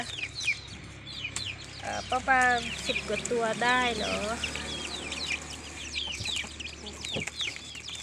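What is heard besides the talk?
laying hen chicks peeping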